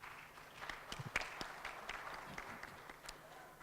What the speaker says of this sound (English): And they deserve a round of applause for this.